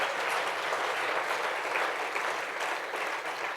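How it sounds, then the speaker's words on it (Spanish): A church congregation applauds during a Sunday morning sermon, steady dense clapping filling the room without a break for several seconds. "Denle un aplauso fuerte al Señor en esta mañana"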